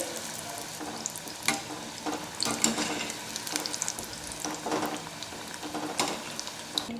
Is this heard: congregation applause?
no